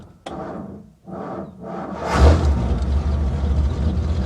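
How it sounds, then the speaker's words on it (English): A 1955 Ford Thunderbird with a weak 6-volt system is cranked by its starter in a couple of short bursts before the engine catches and settles into a loud, steady, close-up idle rumble. "That'll engage the starter."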